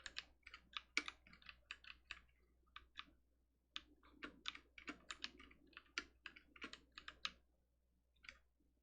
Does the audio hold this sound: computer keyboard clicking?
yes